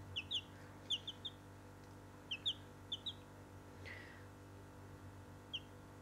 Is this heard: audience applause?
no